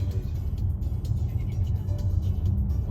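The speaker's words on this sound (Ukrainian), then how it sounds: "А, БТР якийсь, бач. Якась військова машина в'їхала." A BTR armoured personnel carrier rolls in with a steady, heavy low rumble that stays fairly loud and continuous throughout, and no voices are heard.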